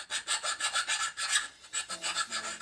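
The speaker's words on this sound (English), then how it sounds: "these little cast pieces need to dress up the bolt holes because there's a little bit of slag in them" Metal is filed by hand to clear slag from the bolt holes of small cast pieces for a chainsaw mill. The rasping strokes come close together in an even rhythm, about five a second, and are close and fairly quiet.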